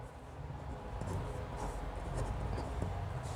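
A pen scratches across paper while working a calculus line integral, a soft continuous scribbling close by with a low room hum underneath and no clear talk.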